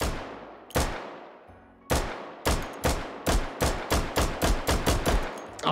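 Sharp, loud single pistol shots in the VR game Hot Dogs, Horseshoes & Hand Grenades, a few spaced cracks at first, then a quick, steady string of about ten shots, each with a short decaying tail.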